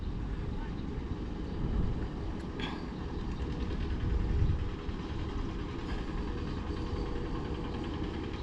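A hand tractor engine runs in a farm field with a steady low rumbling drone, moderately loud and continuous, with slight swells in intensity.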